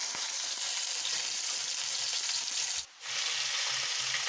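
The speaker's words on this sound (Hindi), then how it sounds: "लेकिन हम शैलो फ्राई करेंगे, डीप फ्राई नहीं" Chicken pieces shallow-fry in oil in a kadai with a steady, even sizzle. The crackle stays constant and close, with one brief dip near the end and no talking.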